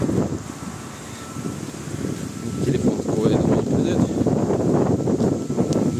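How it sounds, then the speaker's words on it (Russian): Strong wind on an outdoor walk just before rain buffets the microphone with a deep rumbling roar that swells louder halfway through, with a faint rustle behind it. "ветер уже насколько сильный"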